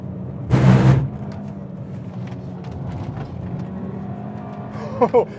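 A Mk5 VW Golf GTI driving fast on a race track, its engine droning steadily from inside the cabin, with a loud burst early on and a few short sharp noises near the end.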